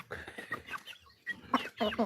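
Hens cluck in short repeated bursts at close range, with a brief pause midway before louder clucking resumes, in a village as a hen is being caught by hand.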